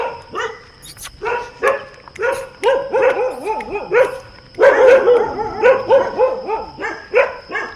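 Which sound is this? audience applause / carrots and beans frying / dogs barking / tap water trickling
dogs barking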